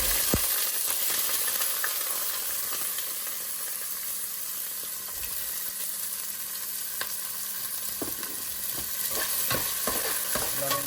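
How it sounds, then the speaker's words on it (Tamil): Sliced onions and green chillies sautéing together in a pan for a fish curry, a steady close sizzle with scattered scrapes and taps of a spoon stirring against the metal, no voices. "இப்போ வந்து இது நல்லா வதங்கி வர்றபடியாக அதோட வந்து நாங்கள் வெங்காயத்தையும் பச்சை மிளகாயும் ஒரே டைமில் சேர்த்துக்கொள்கிறோம்"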